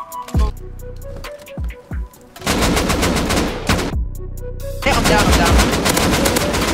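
Revolver gunfire in the survival video game Rust: several sharp, loud shots ring out in the first two seconds, then a dense run of rapid overlapping fire and clattering impacts fills the rest.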